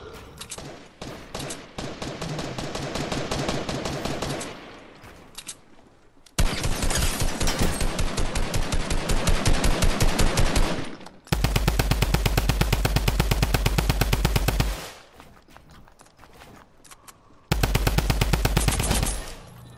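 Rapid automatic gunfire in a shooter video game, long loud bursts of tightly spaced shots separated by brief pauses, with heavy thumping low-end in the later volleys.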